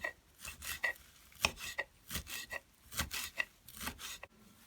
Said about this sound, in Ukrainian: помиту та просушену кропиву наріжемо не дуже дрібно, але і не дуже крупно